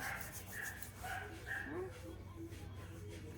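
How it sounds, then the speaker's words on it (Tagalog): Faint, high whines and short yips from a dog come and go over a low background rumble, with some muffled voices in the room. "Niyak po yung aso namin."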